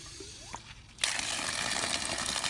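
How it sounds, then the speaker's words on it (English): After a moment of quiet with small knocks, water suddenly bursts from a newly installed frost-free water line into a hole, then keeps rushing and splashing steadily. "Water in the hole."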